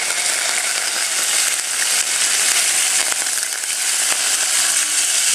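Curry leaves hit hot oil with urad dal and set off a dense, steady crackling sizzle that stays loud and even throughout, with no voices.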